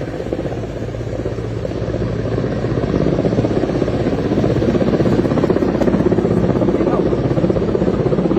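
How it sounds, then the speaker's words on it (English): Helicopters hovering over a flooded city during typhoon flooding in Vietnam: a loud, continuous rotor drone and throbbing beat, steady and close throughout with no pauses. "Helicopters hovered above city rooftops, dropping emergency kits when landing was impossible."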